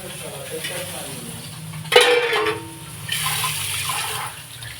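Dishes washed under a running tap in a home kitchen: a sudden clatter of crockery, then a steady rush of water that fades and returns, fairly close and moderately loud.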